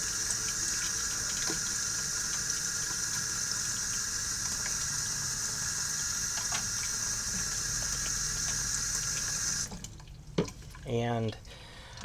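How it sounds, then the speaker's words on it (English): Water running steadily from a tap into a container to dilute Easy Cleaner for restoring Lucchese 2000 Roper boots, a continuous close hiss that stops near the end, followed by brief clatter. "let's go ahead and run a little bit of water here"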